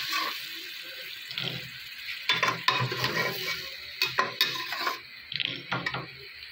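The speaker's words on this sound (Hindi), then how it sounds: "अब हम इसमें ऐड करेंगे टमाटर का पेस्ट जो मैंने पहले ही बना के रखा था।" Tomato paste added to a pot of mutton pulao and stirred, with wet squelching, scraping of a spoon against the pot and clanking taps in uneven bursts, no talk.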